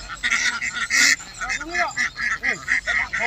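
Ducks being rounded up and caught in a harvested rice paddy quack and honk loudly in quick, repeated bursts, close by, with some voices mixed in.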